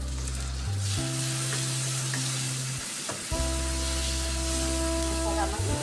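Tomatoes with garlic and onion sauté in a pan, a loud, steady frying sizzle up close, partly covered by sustained tonal humming, with a brief dip near the middle.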